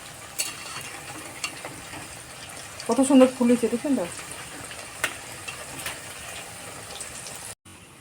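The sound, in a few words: flour, egg and potato snacks frying in hot oil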